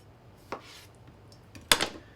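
Knife whacking tomatoes in half on a cutting board, with two sharp chops, a lighter one and then a louder one, close and alone.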